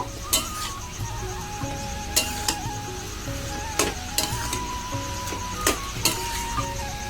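A spoon stirs potatoes into spiced cabbage in a pan, with a steady sizzle and scattered metallic scrapes and clinks against the pan.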